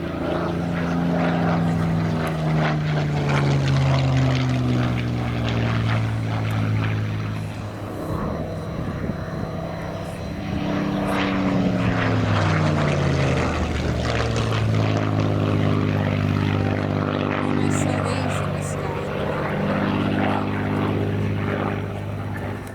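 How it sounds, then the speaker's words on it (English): A Rolls-Royce Merlin-powered Spitfire from the Aircraft Restoration Company flies past at the Royal International Air Tattoo 2025, its loud propeller drone rising and falling in pitch over more than twenty seconds, with no talk. "The Spitfire 11 from the aircraft restoration company, but now we switch from the classic sound of the Merlin"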